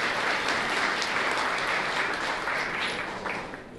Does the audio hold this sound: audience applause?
yes